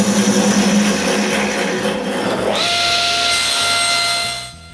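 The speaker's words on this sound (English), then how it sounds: "I mark a piece of pine and I cut it roughly on the bandsaw" A bandsaw roughly cuts through a piece of pine, a steady loud motor whine whose pitch rises partway through as the blade bites into the wood, then cuts off near the end.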